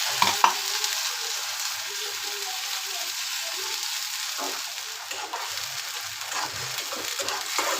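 Onion and a ground masala paste stir-frying in a pan for a Marathi amti, a steady close sizzle with a few clinks of the spoon and soft stirring scrapes.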